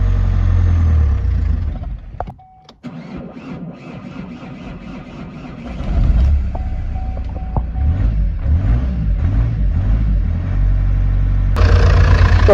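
Rebuilt Vauxhall Insignia car engine held at full throttle, a loud steady mechanical roar that dips briefly early on, then returns with wavering tone and rattling before rising again at the end; no talking.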